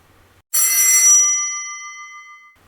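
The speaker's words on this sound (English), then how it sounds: "Just then the school bell went." A school bell rings once: a sudden bright metallic strike that rings out clearly and decays over about two seconds, close and loud, with silence before it and no talking.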